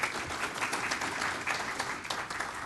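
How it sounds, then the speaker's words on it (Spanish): Applause from an audience at an internet governance forum panel in Peru, steady moderately faint clapping throughout the short stretch with no talk. "pido que todos los presentes le brinden un fuerte aplauso"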